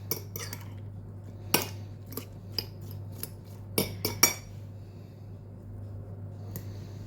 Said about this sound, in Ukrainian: Це все перемішуємо. Отак От з яєчком.